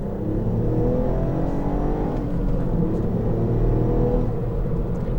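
Engine of a 2019 Ford Fiesta ST in normal mode, held around 4000 RPM in second gear, giving a steady, moderately loud drone with layered harmonics and a slight rise in pitch, heard alone without talk.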